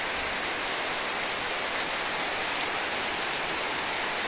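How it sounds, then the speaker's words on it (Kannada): Heavy monsoon rain pouring steadily in a rural village garden, a dense, even, unbroken hiss of downpour at constant loudness with no voices. "ಈ ರೀತಿ ಮಳೆ ಸುರಿತಾ ಇರಲಿಲ್ಲ ಇದು ಎಷ್ಟೊಂದು ದೊಡ್ಡದಾಗಿ ಬೀಳ್ತಾ ಇದೆ"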